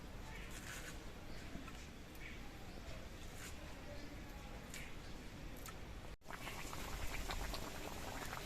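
A fish curry broth with potatoes and vegetable stalks simmering on a stove, a continuous close bubbling and popping boil that steps up briefly louder near the end.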